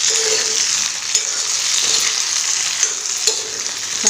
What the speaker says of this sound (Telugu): వీటన్నిటిని చక్కగా కలుపుకొని మగ్గించుకుందామండి